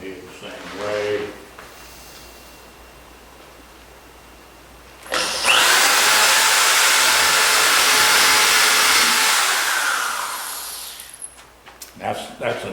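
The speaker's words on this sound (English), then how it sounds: "All right, we've drilled those holes." A power drill bores holes through the wooden side board of a Wright skiff, a loud steady whine running about five seconds after quieter handling noises, then cutting off with a few knocks.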